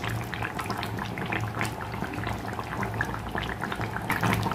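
Shukto, a Bengali vegetable curry with a little milk added, bubbling in a pot, a steady close simmer with soft liquid pops and gurgles throughout, no talking.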